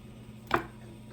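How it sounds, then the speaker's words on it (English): One crisp knife chop cuts through vegetables being prepared for cooked hamburger meat, a single close, distinct thud in an otherwise quiet kitchen. "let's get these chopped up because I'm going to put this in hamburger, cooked hamburger meat"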